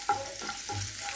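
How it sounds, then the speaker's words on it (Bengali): Chopped ginger and garlic fry in hot soybean oil for a spring roll filling, a steady close sizzle broken by a few stirring scrapes and no voices. "আদা রসুনটা আমি হালকা ভেজে নেব"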